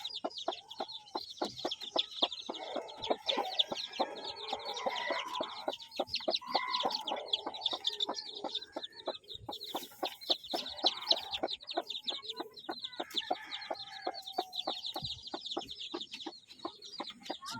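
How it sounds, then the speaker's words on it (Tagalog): A mother hen clucking inside a coop, with rapid, repeated clucks and soft calls running continuously at close range, with other fowl chattering in the background. "So ilagay na natin yung inahin."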